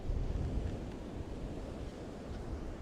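White water surf washes onto a beach, foaming with bubbles, as a steady broadband rush with wind buffeting the microphone; no voices.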